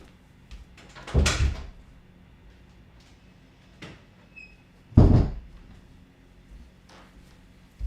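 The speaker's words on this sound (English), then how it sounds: "I gotta close the door" An indoor door shutting with a firm thud, followed by a second heavier close a few seconds later, both near and alone in a quiet room with faint small knocks between.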